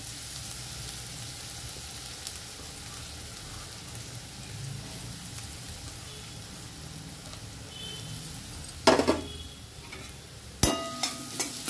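Carrots frying in a pan as they are stirred, a steady soft sizzle running throughout with a couple of sharper scraping clatters of the utensil near the end, no voices.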